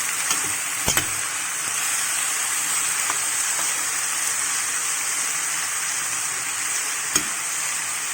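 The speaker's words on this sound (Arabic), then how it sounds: "بعد كده احط الفلفل الاخضر، واحط الفراخ بتاعتي، افضل اقلب كده" Chicken and green peppers for fajitas frying in a pan, a steady loud sizzle with a few sharp clacks of a utensil stirring, no talk.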